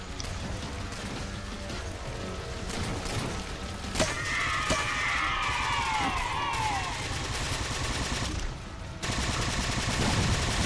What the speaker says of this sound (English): I think I bought my plasma turret